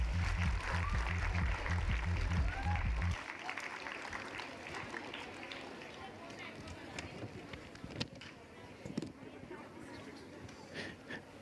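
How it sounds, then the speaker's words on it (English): Audience applause at a career conclave and expo panel session, a broad wash of clapping under a steady low thumping beat in the opening seconds, then thinning out while chatter and scattered claps carry on. "Come on, let's have a round of applause, everybody"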